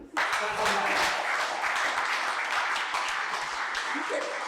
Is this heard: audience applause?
yes